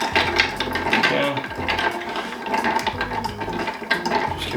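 Ice cubes clinking and rattling against a mixing glass as martini ingredients are stirred, a busy, close jingle of clatter that runs continuously without pause.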